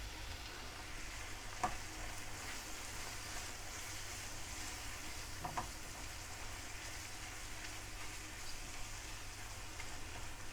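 Masala spices fry quietly in a pan for a brain curry, a faint continuous sizzle with two brief stirring clicks, low in level and with no talking.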